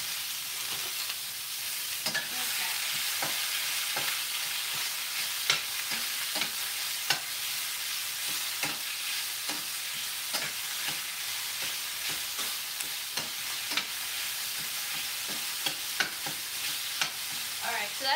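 Sausage sizzles steadily in a pan with salt added, a dense continuous frying hiss broken by frequent sharp clicks and scrapes of a utensil stirring, close and loud with no talking.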